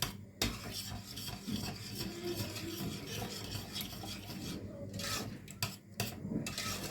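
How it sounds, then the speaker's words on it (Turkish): Tomato paste being stirred in a pot during cooking for tomato soup, a steady scraping and rubbing of spoon against the pan with faint sizzle, continuous and fairly close, with brief pauses. "Bunu bu şekilde şimdi karıştırarak pişireceğim"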